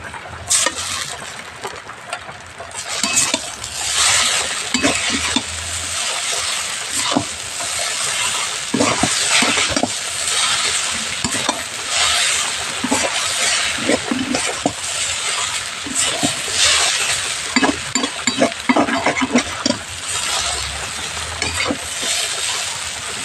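Egg chowmein with chowmein masala is stir-fried in a pan, giving a steady loud sizzle broken by repeated scraping and clinking of the spatula against the metal, with no speech.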